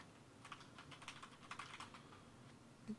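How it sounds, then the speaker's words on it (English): Computer keyboard typing during an online tabletop role-playing game session, a steady run of quick, light clicks and taps at moderate distance, with no voices. "Sorry, I was typing"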